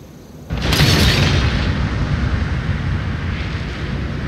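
Heavy stone-throwing catapult shots crash and explode on impact in the samurai strategy game Total War: Shogun 2, a loud sudden boom followed by a long rumbling roar of debris and battle noise with no talk.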